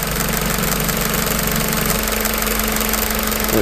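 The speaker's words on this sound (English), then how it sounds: "the pump will then become much quieter" A fluid pump in a German electronic valve protection setup runs with a steady, loud mechanical hum and vibration, continuous and unbroken throughout, its low drone dropping slightly partway through.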